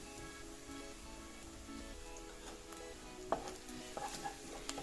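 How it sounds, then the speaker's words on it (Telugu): Ginger paste fries in hot oil for Indian paneer butter masala, giving a soft, steady sizzle, with light stirring scrapes joining near the end. "మంచిగా ఫ్రై అవ్వనిద్దాం. అల్లం పేస్ట్ కూడా ఫ్రై అయ్యిందండి."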